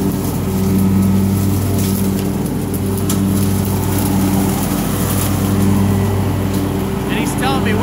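An X310 blower engine drones steadily and loudly up close while clearing pine needles and leaves, a constant humming roar with slight swells in pitch.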